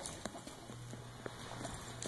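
Horse hooves clip-clop during western-style riding in Lakeside, Duluth, a few quiet, unevenly spaced thuds over a faint low hum, with no talk.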